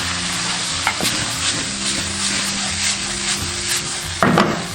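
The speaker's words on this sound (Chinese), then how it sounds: "加入红薯粉，搅拌均匀。" Cabbage stir-fried with sweet potato noodles in a wok over low heat: a soft continuous sizzle with repeated scraping and stirring strokes, plus a sharper clatter near the end.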